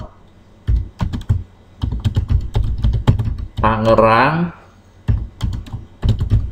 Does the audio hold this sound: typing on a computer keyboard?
yes